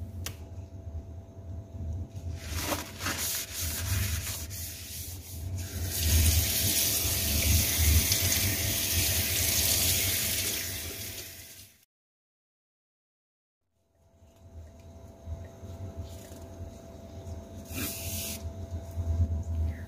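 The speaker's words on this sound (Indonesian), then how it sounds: "basahi kain pel, kemudian peras" Water splashes and drips as a mop cloth from a Dreame D9 robot vacuum is wetted and wrung out, a continuous wet gushing and trickling up close that swells, cuts to silence, then resumes with lighter dripping.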